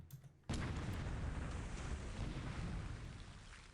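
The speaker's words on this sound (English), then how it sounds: "AK Tokushima Maru takes some hits from these coastal defense guns" Coastal defense guns of 75mm calibre fire on a transport ship at sea in a War in the Pacific battle, a sudden heavy blast that swells into a sustained roaring rumble.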